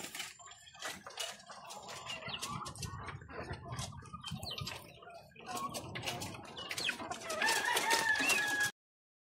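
Chickens clucking and crowing beneath a hut in the Philippines, a busy flock close by with overlapping clucks and calls that grow louder toward the end.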